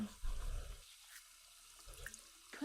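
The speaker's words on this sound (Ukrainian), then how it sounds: "ми не будемо знімати рукавиці і помиємо руки" Hands being washed at a sink in the video game The Sims 4, with a brief burst of faint running tap water at the start, followed by near-quiet.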